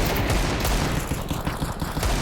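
Rapid gunfire from a professional Counter-Strike 2 esports match, dense overlapping shots crackling in a continuous burst, loud and close.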